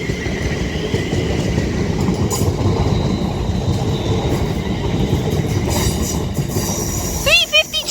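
A Class 350 passenger train passes Edge Hill in Liverpool with a steady, loud rumble and a faint clatter of wheels, ending in a few short squeals at the close.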